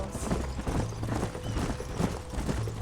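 Horse hooves clip-clop steadily in Red Dead Redemption, a close, even rhythm of hoofbeats that continues throughout with no voices.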